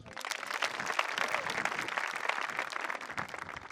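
An audience applauds during a sermon at a commemoration gathering. The clapping is dense and sustained and fairly steady for several seconds, with a crowd murmur beneath it.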